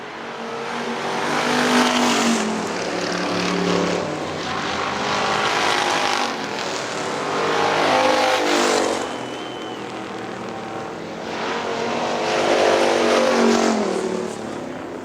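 Factory stock cars race at Hartford Speedway Park, engines roaring loudly in repeated waves as the pack sweeps past, rising and fading continuously without a break.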